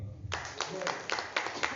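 An audience at a seminar on financial freedom breaks into brief clapping, a few close, uneven bursts of hand claps that start abruptly and fade within a couple of seconds.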